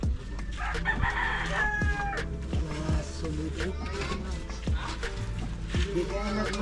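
A rooster crows nearby amid repeated clucking from other fowl, the calls overlapping in a busy farmyard chorus.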